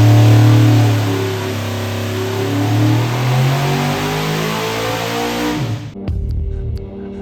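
A 632 cubic inch nitrous big block Chevy engine revs loud and close, its deep roar rising and falling before cutting off abruptly, followed by a lower rumble as it settles, with no talk.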